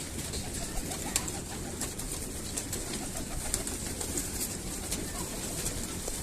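Pigeons coo on a rooftop beside a pigeon loft, a dense, continuous murmur of cooing from many birds close by, with a voice speaking faintly underneath.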